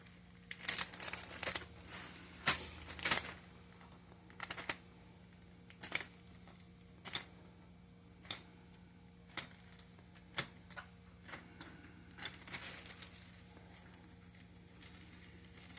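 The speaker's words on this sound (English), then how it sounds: "I'm going to take a Ziploc bag. And I'm going to pop my Oreo cookies in there." Oreo cookies being dropped into a plastic Ziploc bag, heard as faint, close crinkling of plastic and scattered light taps in irregular bursts, then sparser rustles in a quiet room.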